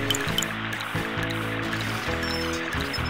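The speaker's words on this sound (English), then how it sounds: "I can still hear water running, Bob." Steady water trickling and running from a leak in the 2001 PC game Bob the Builder: Can We Fix It?, a continuous close stream layered with low game music tones throughout.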